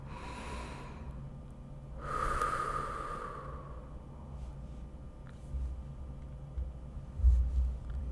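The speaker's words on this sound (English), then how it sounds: "Last deep breath here." A single deep breath during a guided pelvic-floor body scan meditation, a soft, close intake followed by a longer audible release, heard alone against a quiet, low-humming room.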